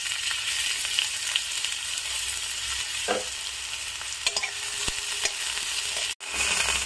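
Onion sizzles in hot oil in a wok, a steady frying hiss with occasional clicks of stirring and one brief sharp break near the end.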